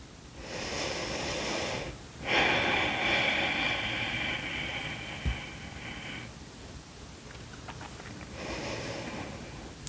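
Slow, deep breaths drawn in and let out during a yoga pose, long airy inhales and exhales heard close and soft, separated by brief pauses.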